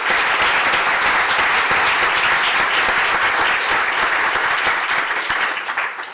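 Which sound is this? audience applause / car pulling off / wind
audience applause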